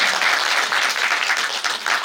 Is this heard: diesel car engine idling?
no